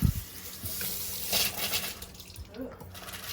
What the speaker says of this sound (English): It's pretty low flow with the hot water on.